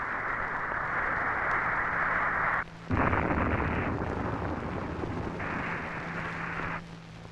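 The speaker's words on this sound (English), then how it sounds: "Witness this launch of a Titan II." A Titan II missile test launch that fails, with the missile destroyed: a steady loud roaring rush, briefly cut off, then resuming with a low rumble, heard alone over archival film noise.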